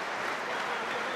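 Spectators at an Oktagon MMA fight applaud to encourage a fighter, a dense, even wash of clapping heard from a distance across the arena, steady and moderate in level.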